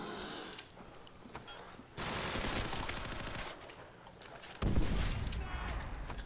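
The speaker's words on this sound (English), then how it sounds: "I'm just chucking grenades." Grenade blasts and rapid gunfire in a Call of Duty custom zombies match, with bursts of automatic fire and sudden loud explosions, one heavy blast near the middle and another toward the end, with no voices.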